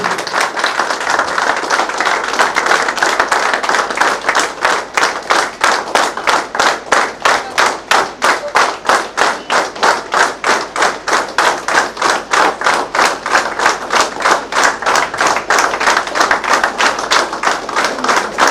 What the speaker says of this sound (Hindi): सभी से निवेदन है कि जोरदार तालियों से श्रीमान एसपी महोदय का स्वागत करें